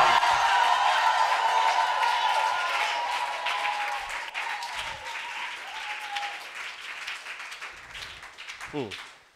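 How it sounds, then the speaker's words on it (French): A church congregation at a Sunday service applauding loudly and steadily, the clapping fading toward the end, with a voice speaking over it. "Je dis que il faut acclamer El Shaddai."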